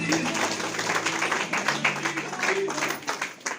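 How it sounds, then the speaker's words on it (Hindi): Applause at a team stage event, a crowd clapping in a dense, steady patter of moderate loudness that continues through the short moment without talk over it. "जोरदार तालियां"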